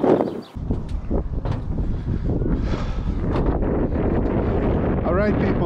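Strong wind buffets the microphone in rough, continuous gusts, loud and close throughout, in the dark at the Moerputten swamp in the Netherlands.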